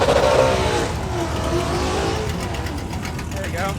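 A supercharged car engine at a track night on a drag strip, running loud and close with a steady roar and some revving, while people talk over it.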